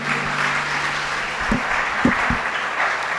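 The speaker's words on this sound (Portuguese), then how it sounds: "Vamos aplaudir mais uma vez ao Senhor." A church congregation claps together in a steady, moderately distant round of applause during an evangelical service, with a few low thumps beneath it.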